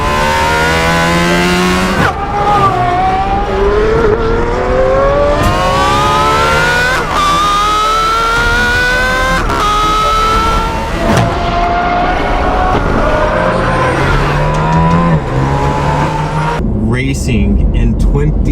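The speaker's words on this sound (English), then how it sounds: "naturally aspirated V12" A naturally aspirated V12 race car engine wails loud and steady through repeated upshifts and revving, pitch climbing and dropping as it runs near and continuous, with speech faintly audible underneath.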